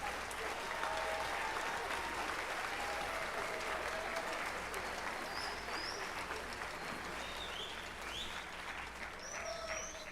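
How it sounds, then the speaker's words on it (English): Parents and families at a middle school spring band concert applaud band students. The clapping is sustained and even across the hall, with a few faint whistles or squeaks above it. "So how about a nice round of applause for these folks?"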